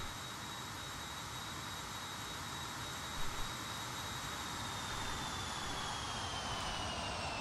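An Embraer E190 jet passing in the flight simulator game FSX, heard as a steady, loud broadband engine roar with a high whine that slowly falls in pitch as it goes by, with no voices.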